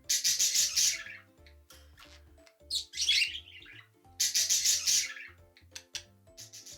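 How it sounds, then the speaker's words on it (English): A parrot lets out harsh, loud squawking calls in three bursts, rapid raspy shrieks sounding close over a light, plinking musical background. "Parrot."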